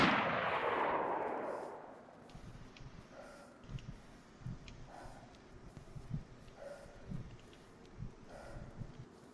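Gunshots in a first-person shooter game, a big loud burst at the start fading out, then a string of quieter, evenly spaced single shots ringing out at a distance.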